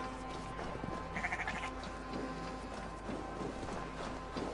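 Sheep bleating in the video game Assassin's Creed Valhalla, several short bleats rising over a steady backdrop of ambient game sound with soft hoof-like clopping.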